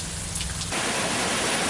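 Heavy rain pours down continuously in the Puttalam district of Sri Lanka, a dense loud hiss of rainfall that swells stronger partway through, with no voices.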